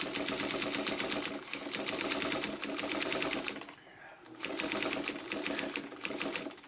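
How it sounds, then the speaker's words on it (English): Sewing machine top-stitching around the edge of a fabric coaster, a fast rhythmic clatter of needle strokes in several bursts with a brief pause near the middle. "Now I'm taking like a 1/2 inch top stitch around the outside edge."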